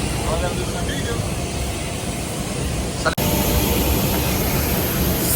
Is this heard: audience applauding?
no